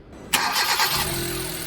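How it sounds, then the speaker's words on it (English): A car engine cranks and catches, then settles into a steady idle, close and fairly loud. "Engine started."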